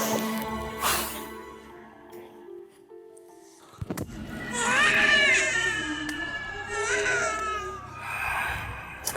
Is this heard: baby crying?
yes